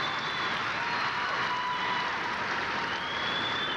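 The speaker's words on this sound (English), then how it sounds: "Some interesting applause from the crowd." Steady applause from the crowd at a 1989 U.S. gymnastics competition, a continuous, fairly distant wash of clapping with faint crowd murmur and a thin high whistle-like tone drifting through.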